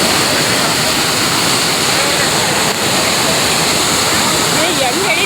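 A rain-swollen waterfall roars with a dense, constant rush of water, loud and close, filling the whole clip without a break.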